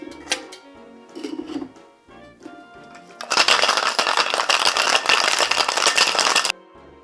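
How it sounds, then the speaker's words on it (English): Cocktail shaker packed with three standard ice cubes and a daiquiri mix, rattling in a dense, steady burst of loud clattering for about three seconds after some lighter handling clinks. "I'm gonna shake it with just some standard ice cubes"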